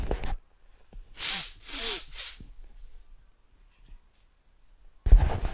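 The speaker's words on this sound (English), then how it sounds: "I have to blow my nose." Someone blows their nose in a few forceful, noisy bursts, close up, followed by quiet and a brief rustle at the end.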